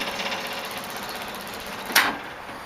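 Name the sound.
electric fuel pump running on a 1914 car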